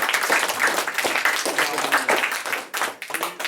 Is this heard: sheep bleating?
no